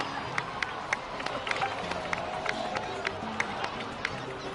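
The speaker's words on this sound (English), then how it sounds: "please give another round of applause for them" A game crowd in Genshin Impact, set in Natlan, claps and cheers with steady, rhythmic applause spikes over a dense murmur of voices, moderately loud and sustained throughout.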